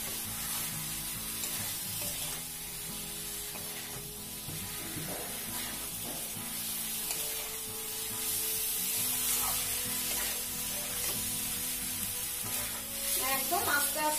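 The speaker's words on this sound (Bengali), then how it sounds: "আমি তাহলে ব্রকলি দিয়ে এগুলোকে নাড়িয়ে নিই, তারপর অল্প করে জল দিয়ে দেবো" Broccoli stirred and fried in a pan with spices: loud continuous sizzling and hissing with scraping stir strokes and bursts of spatter, heard alone without talk.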